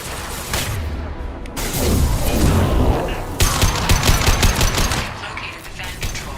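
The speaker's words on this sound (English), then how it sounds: "Firing concussive shot!" Rapid, loud bursts of concussive weapon fire in the Mass Effect 2 Legendary Edition sci-fi shooter, dense clattering blasts rolling through a room for several seconds.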